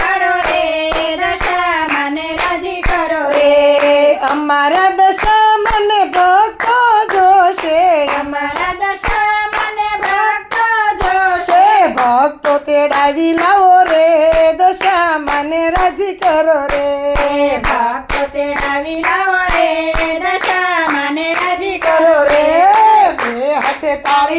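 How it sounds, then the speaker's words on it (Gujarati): Two hands clap in a steady, close rhythm throughout a sung devotional song to the goddess Dasha Maa, the crisp claps keeping time under the singing voices at a small home gathering. "બે હાથે તાળી પાડો રે દશા માને રાજી કરો રે"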